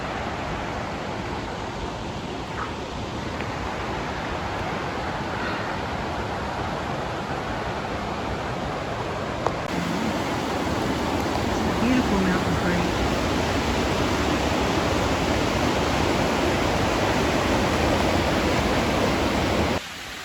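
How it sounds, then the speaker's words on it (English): River water rushes below a forest trail in the North Cascades, a steady broadband roar heard from a distance that grows slightly louder midway, with no talking. "But you can hear the water down there, and I can see it from here."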